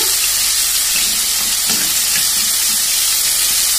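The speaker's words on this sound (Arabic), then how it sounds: "المرة دي اللحمة دي حلوة يعني تستوي على طول فقلت اشوحها" Meat for a potato and meat tray sears in a hot pan with a loud, dense, continuous sizzle and hiss that stays close and steady throughout, with no talking.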